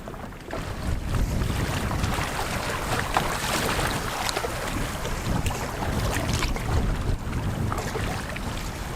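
Strong wind gusting steadily along an offshore island coast, a loud, continuous roar with buffeting on the microphone and no voices.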